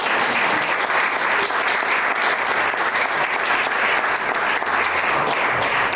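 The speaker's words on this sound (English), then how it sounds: "let's give this nice young lady a round of applause" A magic show audience at a grange hall bursts into steady, dense applause for a young lady volunteer, sustained and loud throughout with no pause.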